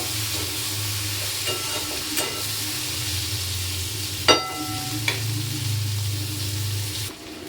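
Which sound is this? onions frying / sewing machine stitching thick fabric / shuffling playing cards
onions frying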